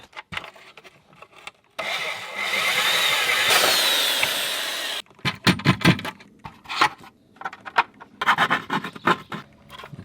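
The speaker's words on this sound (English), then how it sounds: "we are going to drill some holes in the top hatch here" A power drill grinds into a metal van roof hatch in several bursts, a long sustained run followed by short choppy pulses, loud and close.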